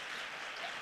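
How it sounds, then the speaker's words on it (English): Applause from the audience at a women's poetry reading as a poet takes the stage, a dense steady wash of clapping without pauses. "give her your thanks with your applause"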